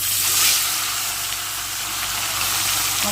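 Salted, turmeric-rubbed fish frying in hot oil, a loud, constant hissing sizzle that holds steady throughout, close by with a low hum beneath it and no talking.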